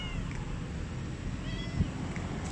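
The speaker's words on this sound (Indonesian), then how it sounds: "Kucing." A cat gives a couple of short, soft meows over a low background rumble, fairly close by.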